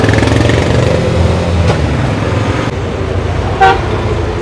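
Riding in an auto rickshaw through city traffic on the way to a flower show, with a low steady engine rumble up close and a couple of short car horn toots cutting through the noise.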